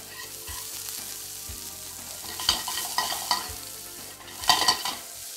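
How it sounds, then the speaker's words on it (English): Onions lightly frying in olive oil, a steady close sizzle with a few soft stirring knocks and scrapes of a utensil in the pan; nobody speaks. "just a little olive oil for the audience. Once again, you can use butter, margarine, onions, and just lightly fry them"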